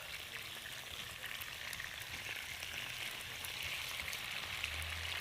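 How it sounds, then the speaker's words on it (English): Potatoes fry in a pan with a steady, faint crackling sizzle that continues evenly throughout and has no talk over it. "Now, our potatoes are frying."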